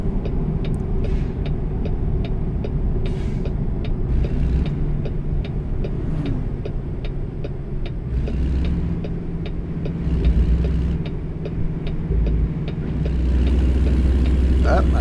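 A heavy truck engine in American Truck Simulator climbs uphill, a deep steady rumble rising in revs before gear changes, with ticking clicks and someone talking over it.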